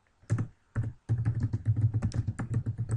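Fast, uneven typing on a computer keyboard, a dense run of close, crisp key clicks with brief pauses near the start, while someone enters details on a web form.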